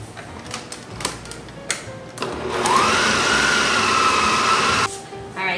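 A hand mixer beats cream cheese, sweetened condensed milk, lemon juice and cream for a lemon icebox cake. Clicks and knocks come first, then a loud, steady motor whir rises in pitch, holds for a few seconds and stops.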